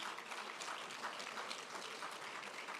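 Faint, steady applause rises from a crowd at an Outstanding Father Awards ceremony, a soft continuous patter of many hands that holds evenly throughout with no speech.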